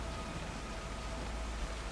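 Rain falling in the video game Darksiders Genesis, a steady hissing downpour with soft patter, even and unbroken for the full two seconds.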